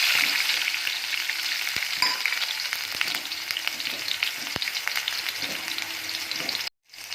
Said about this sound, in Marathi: चला आता आपण लसूण आणि टमॅटो टाकून घेऊया